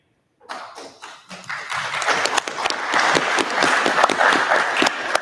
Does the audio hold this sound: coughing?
no